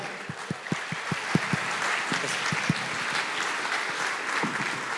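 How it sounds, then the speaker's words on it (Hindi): Scattered individual claps quickly thicken into steady audience applause for Aamir Khan at an interview event, holding at a moderate level to the end. "big round of applause for Mr. Amir Khan"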